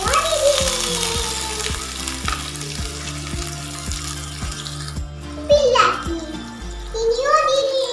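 Chopped onions hit hot oil in a pan and sizzle steadily, with stirring clatter and a child chattering nearby while the frying continues.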